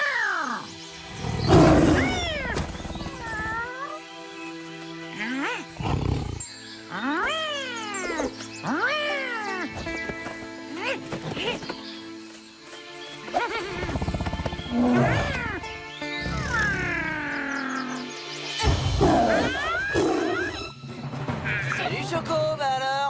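Cartoon tigers let out a series of loud, drawn-out roars and snarling growls, sounding close, one after another with short pauses between.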